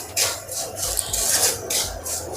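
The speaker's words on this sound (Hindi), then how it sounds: "अब हम इसमें सूजी डालेंगे और सूजी को अच्छे से भून लेंगे।" Semolina roasting in ghee in a pan while being stirred, giving repeated close scraping and rasping strokes in a loose rhythm, moderately loud with no talking.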